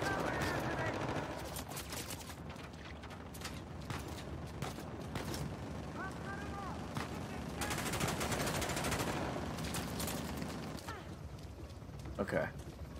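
Gunfire in the action game Uncharted: The Lost Legacy, dense rattling bursts of shots running through most of the stretch, fairly loud, with a player's voice talking over parts of it.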